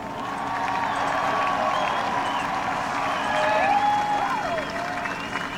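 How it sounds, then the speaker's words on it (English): Crowd cheering and applauding at a presidential inauguration, heard from a distance as a steady roar of clapping and shouts with whistles and higher cries rising above it, swelling slightly in the middle. "There's people cheering again."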